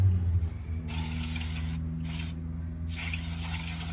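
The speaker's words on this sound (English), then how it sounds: "you want to make sure you spray it down with some brake clean" Three hissing bursts of aerosol brake cleaner sprayed onto a rear brake rotor of a 2007 Audi Q7, close up, the last longer than the first two, over a low steady hum.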